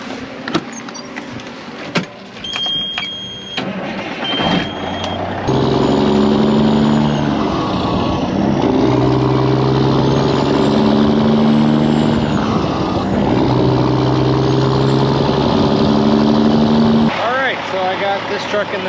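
A loaded grain truck's engine runs in a muddy wheat field during harvest, a loud steady drone with gear-whine tones that rise and fall as it works, preceded by a few clunks and knocks.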